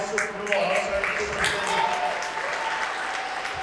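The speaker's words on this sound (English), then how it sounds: "Another round of applause for Dr. Newell," Audience applause honoring a teacher for 50 years of service with Paterson Public Schools, a steady, full round of clapping from a crowd sustained throughout, with a voice faintly audible beneath.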